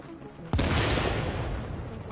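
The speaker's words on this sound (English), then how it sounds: "What are you shooting at, dude?" Gunfire in the video game The Division, one sudden loud blast followed by a sustained roar of shots and rumble.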